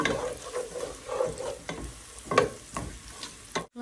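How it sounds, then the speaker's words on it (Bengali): Whole spices frying in hot oil in a pan while being stirred: a steady close sizzle broken by repeated spoon scrapes and stirring knocks, with no talking. "মশলাটাকে আমি তেলের সাথে একটু ভাজবো"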